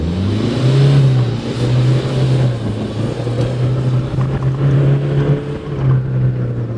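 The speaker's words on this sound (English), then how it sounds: "I'm going to put foot down now. I'm going to hammer it, and you will see at the speed this gearbox shifts" A Toyota Hilux N80 4WD engine accelerates hard from a standstill, a loud close engine drone rising through quick gear shifts with no voices.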